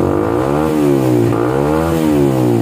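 A Suzuki GSX motorcycle engine with a modified stock exhaust revs up and down twice, loud and close, its throaty tone rising and falling with the throttle.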